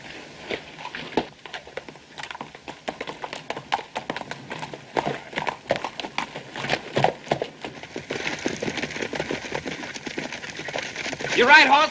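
Horses' hooves clip-clop along in the Old West near Virginia City, a steady uneven patter of several horses running under and between stretches of talk, growing louder toward the end.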